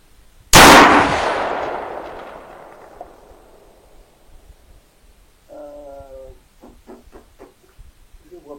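A single loud, close cannon blast followed by a long rolling decay lasting several seconds, then fainter mechanical clatter and tonal beeps afterward.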